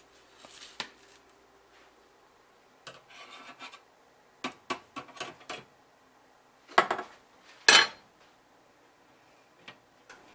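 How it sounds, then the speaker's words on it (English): Crisp maple cookies lifted from a baking sheet onto a cooling rack, giving scattered scraping and clacking contacts in short bursts with quiet gaps between, close and moderately loud, no talking. "Just transfer them over here to a cooling rack."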